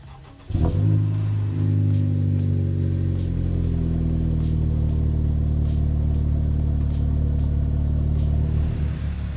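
A Honda Civic Type R cranks and fires after an ECU reinstall, a sharp catch followed by a flare of revs that settles into a steady, close, low idle rumble lasting several seconds.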